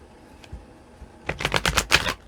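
Tarot cards are shuffled up close, with a faint tap early on, then a quick run of about six crisp riffling bursts in a row.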